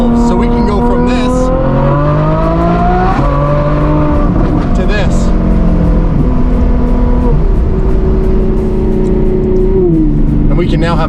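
Loud, deep engine revving from a twin-turbo Ferrari F12 V12 with an aftermarket valved exhaust, valves open, rising and falling in pitch through several throttle blips, with brief talk over it.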